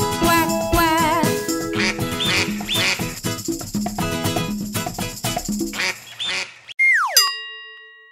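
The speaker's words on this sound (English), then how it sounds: "he led the others with the quack, quack, quack." Cartoonish duck quacks in a children's nursery rhyme song, repeated in quick bursts over bright, busy music, ending in a falling sound-effect swoop.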